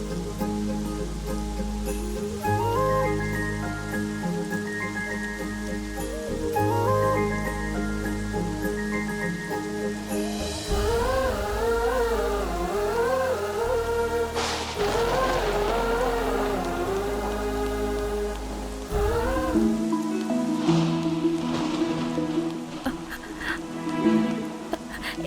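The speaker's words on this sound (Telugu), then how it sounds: "ఏంటి వర్షం ఇలా పడుతుంది?" Rain falls steadily in a soft, constant patter, partly masked by louder music playing over it.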